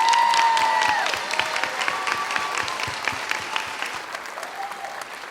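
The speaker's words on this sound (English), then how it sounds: "Let's give a round of applause for Malia." At a charity pageant show, a crowd applauds steadily with dense clapping under faint lingering tones and some background voices, and the sound eases slightly after the first second.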